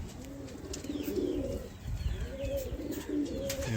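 Andhra Madrasi pigeons coo close by in repeated rolling, bubbling phrases with brief pauses between them, alongside faint chirps and some handling noise, with no talking.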